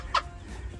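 A chicken gives one short, sharp cluck, close by, with a soft low background rumble around it.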